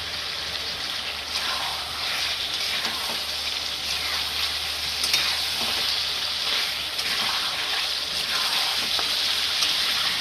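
Fried potatoes go into a pan of chicken curry and sizzle steadily, giving a dense, rain-like crackle that continues evenly throughout, with no talking.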